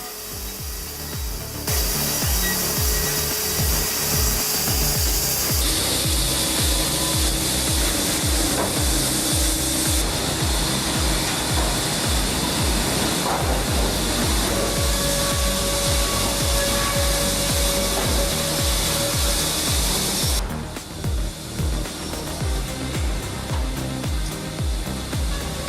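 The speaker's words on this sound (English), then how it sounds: "3650E is a powerhouse of a bandsaw mill, built for serious cutting precision." A large bandsaw mill cuts through big logs with a loud, continuous high-pitched whine and grinding rasp that holds steady, shifting in tone midway and easing slightly near the end.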